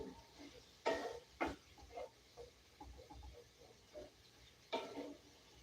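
Onions being stirred in a frying pan, a few sharp scraping strokes of a utensil against the pan over a faint sizzle, quiet and close, with no talk.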